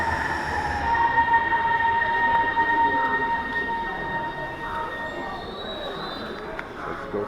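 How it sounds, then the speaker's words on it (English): A train rolls in with a rumbling hum and a high, thin squeal of wheels on the rails that fades as it slows, fairly close. "Here comes the train."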